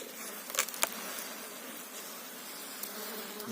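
Honeybees buzz inside an opened hive during a check of its food stores, a dense steady drone close by with a few brief louder passes as bees fly near, and nobody speaks.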